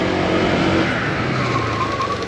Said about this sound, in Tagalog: I'm making the ABS work really hard